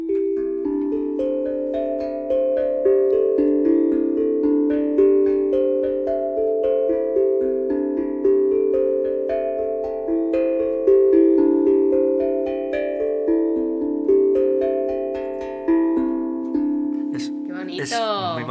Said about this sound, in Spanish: se llama tandrún, y suena algo así como muy mágico.